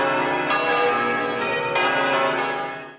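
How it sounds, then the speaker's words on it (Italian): Church bells ring out at a friar's funeral in overlapping, resonant strikes, several clangs layered with long shimmering decay, fairly close and loud. "mentre le campane sembrano salutarlo con un canto di festa"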